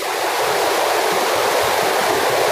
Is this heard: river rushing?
yes